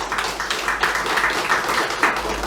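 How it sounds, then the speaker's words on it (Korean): A church congregation claps together in praise, a dense, steady patter of many hands that carries on throughout the short stretch. "박수로 영광을 돌리겠습니다"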